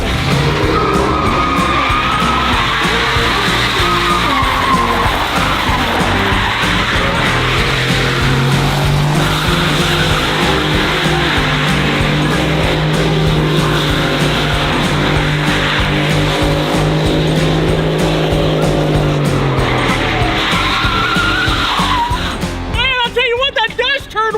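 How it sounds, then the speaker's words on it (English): A mini V8 Ford Raptor truck with no bed on the back does donuts, its engine roaring loudly while tires squeal and skid in a long sustained howl that drops off near the end, with voices heard over it. "this thing will do, hypothetically, a really awesome donut and skid with no bed on the back"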